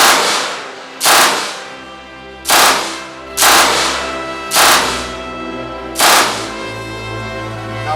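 A WW2 German machine gun fires at an infantry demonstration in five or six loud, separate bursts spaced about a second apart, each with a short echoing tail outdoors.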